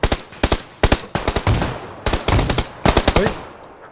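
Automatic gunfire in PUBG Lite, set in a desert map: loud, close bursts of rapid shots, five or six sharp cracks in each burst, with short pauses between bursts and no talking over them.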